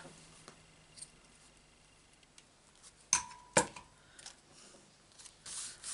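Scissors trimming the end of a knotted string on a Christmas gift tag, two crisp snips close together amid quiet handling rustles, faint and close, without talking.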